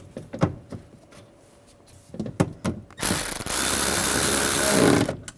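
Window regulator bolts and a nut on a 2008-2017 Buick Enclave get tightened, first a few sharp metallic clicks and taps, then a loud sustained whirring burst from a power tool lasting about two seconds.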